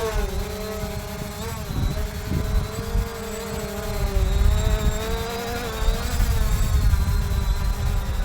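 An SJRC F11 GPS drone hovers and flies outdoors in wind, its propellers giving a loud, continuous buzzing whine that rises and falls slightly in pitch as it moves, with wind rumble underneath.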